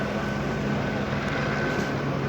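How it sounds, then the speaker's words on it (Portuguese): A helicopter flies over a police search for a purse thief in a city neighborhood, its steady engine and rotor drone loud and continuous with no voices. "Pois é, George, até um helicóptero foi usado nas buscas."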